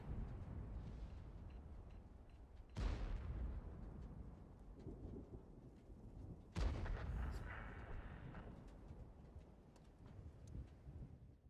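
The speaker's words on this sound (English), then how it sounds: "Oh, nice shot by the M40." An M40 gun in a video game fires, giving two heavy booming blasts a few seconds apart, each with a long rumbling tail that fades over a low, constant background.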